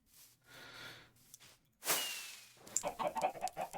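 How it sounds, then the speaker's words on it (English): Minecraft chickens cluck and squawk in short bursts, with a sharp airy burst midway, fairly quiet and close. "Noisy chickens."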